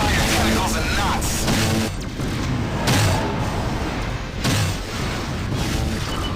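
Plasma shots from a squid enemy in a space starfighter game, several heavy booming blasts spaced a second or two apart over a loud, dense backdrop.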